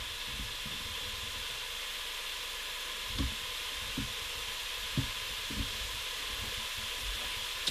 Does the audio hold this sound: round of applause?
no